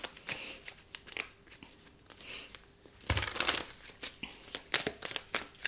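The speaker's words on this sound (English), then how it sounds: "I'm just going to give it a proper shuffle" A deck of tarot cards is given a thorough shuffle close by, with papery riffling, crinkling and slapping noises that grow busier and sharper partway through, without any talk.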